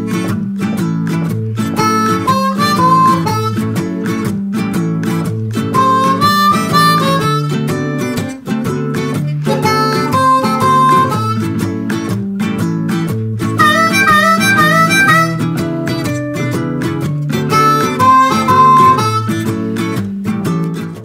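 A harmonica in D plays a blues tune over a steady backing groove of drums and bass, with the harp phrases loud and upfront throughout.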